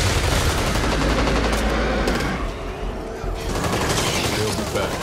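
Video game gunfire in the zombie shooter Back 4 Blood, a loud, dense barrage of rapid automatic shots that briefly thins before resuming at full intensity, with a voice calling out over it.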